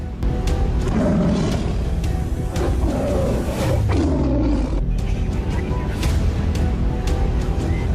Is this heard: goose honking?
no